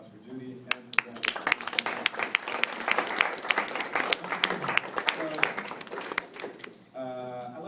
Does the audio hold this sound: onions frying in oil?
no